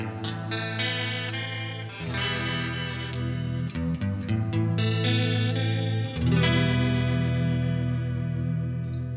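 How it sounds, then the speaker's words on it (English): Electric guitar playing sustained chords and melodic lines through a Yamaha REV-X reverb with added vibrato on a UR-RT interface's onboard DSP, a loud wavering, washy tone with long tails, no voice present. "these are the Yamaha REV-X reverbs"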